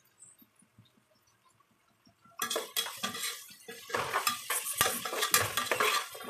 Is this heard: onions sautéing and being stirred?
yes